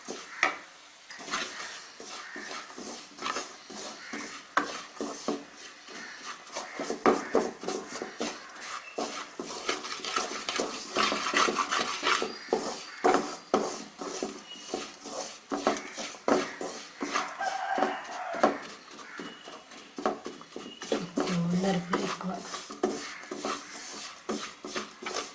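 Gram flour roasting in a pan for a sweet, stirred steadily with a spoon, giving continuous close scraping and clinking against the metal without talk.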